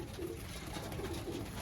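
Flying pigeons kept by a breeder coo in repeated low, soft bursts close by, with a steady background hum throughout and no talking.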